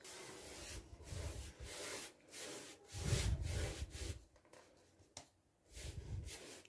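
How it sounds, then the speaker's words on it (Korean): Fine sandpaper worked over a painted wooden drawer between varnish coats, giving close, steady rasping strokes in a back-and-forth rhythm with short pauses between passes. "다시 고운 사포로 표면을 한번 다듬어 준 다음"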